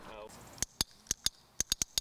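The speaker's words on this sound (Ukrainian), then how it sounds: "Це так зване дресирування за допомогою ось такого клікера." A dog training clicker snaps sharply eight or so times, in close, crisp clicks spaced irregularly, after a short burst of talk at the start.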